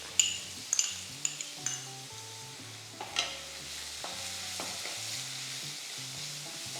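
Onion, ginger and green chili sauté in a pan with a steady quiet sizzle, punctuated by a few sharp spoon clinks and scrapes early on, close and faint, no talking.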